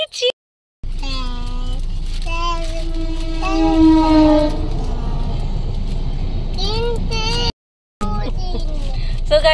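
A train passes a railway crossing on the road to an agricultural college, a loud, close rumble with sustained horn-like tones, and voices underneath.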